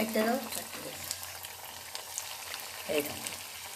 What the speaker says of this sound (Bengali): এইভাবে সুন্দর করে ভেজে নিতে হবে।